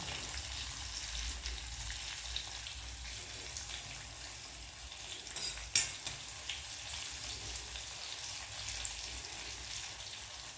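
Mustard seeds, garlic, cumin and fenugreek tempering in hot oil for sambar, giving a steady low sizzle and crackle throughout with one brief sharper pop near the middle; no talking.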